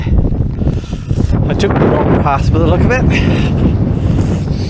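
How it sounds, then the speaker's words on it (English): Strong wind blows across an open mountain, a loud, steady rush and buffeting against the microphone throughout while someone speaks over it. "Oh, into the wind now."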